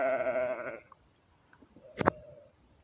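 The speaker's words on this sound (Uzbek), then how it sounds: "Bital uloqchalarimiz." Beetal goat kids, two months old and female, bleat in a short loud harmonic cry, then after a pause a fainter, briefer bleat follows, with no talking.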